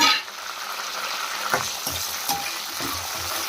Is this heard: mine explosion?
no